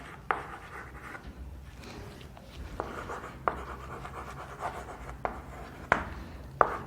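Chalk or marker scratches and taps across a board in short strokes and sharp clicks during an engineering thermodynamics lecture on nozzles and diffusers, quiet and intermittent with no talking.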